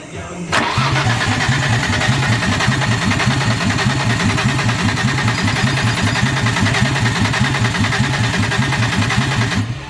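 A Nissan R33 drift car's engine fires up on its first start after about half a second, then settles into a loud, steady, rough idle with a rapid pulsing throb that runs uninterrupted to the end.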